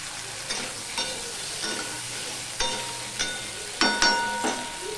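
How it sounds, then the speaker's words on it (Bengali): Lightly salted potatoes and onions fry in a pan with a gentle sizzle, while a utensil scrapes and clinks against the pan in several sharp strokes, some louder than others. "দেখো আলু পেঁয়াজটা ভালো করে ভাজা হয়ে গেছে।"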